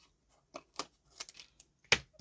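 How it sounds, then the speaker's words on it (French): Several quick, crisp snips of scissors cutting paper, spaced irregularly, close and fairly quiet with silence between them. "Ciseaux, ciseaux, ciseaux."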